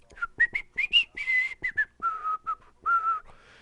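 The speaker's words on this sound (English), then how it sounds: "I don't know what I'm whistling about here right now." A person whistles a short, aimless tune of quick chirpy notes followed by longer held tones, clear and close in a quiet room.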